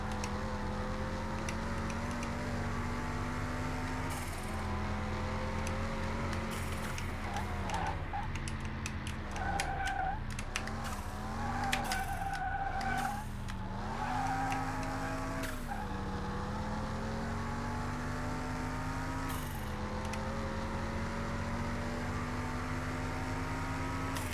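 A race car engine with a new turbo, heard inside the Car Mechanic video game, drones steadily and loudly the whole time, its pitch rising and dipping through shifts and a wavering whine over a constant hum.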